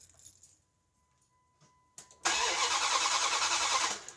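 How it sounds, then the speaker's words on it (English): Dodge Durango engine with a crank/no-start fault cranking over after a key click, a loud, steady, close churning rumble following a short quiet pause and a chime tone. "let's go ahead and crank over and see if this light turns on"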